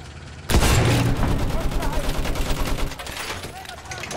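Rapid gunfire from the Battlefield 1 World War I shooter, opening abruptly into a loud, sustained stream of shots and booms over dense battle noise, easing slightly toward the end.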